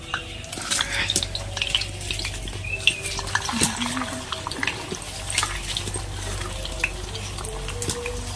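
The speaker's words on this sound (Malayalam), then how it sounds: "വെളിച്ചെണ്ണ ചൂടായിട്ടുണ്ടെങ്കിൽ നമുക്ക് ഇതിനകത്തേക്ക് ഇട്ട് കൊടുക്കാം" Jackfruit sizzles and crackles in hot coconut oil, with utensils clinking and scraping against a pan throughout; no talking.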